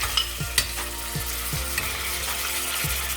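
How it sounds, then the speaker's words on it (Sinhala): Chopped chicken sizzles steadily in olive oil in a pan, with several sharp clinks and scrapes of a utensil stirring the pieces, all close and fairly loud, with no voices. "දැන් මම ඒකට අපි පොඩියට කපාගත්ත මස් ටිකත් එකතු කරගන්නවා."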